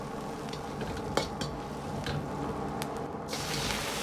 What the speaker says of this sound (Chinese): 炒至姜葱微黄